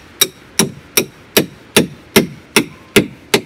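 Steel hammer blows drive mulch stakes into the ground, nine sharp evenly spaced strikes about every 0.4 seconds, close and loud with no talk.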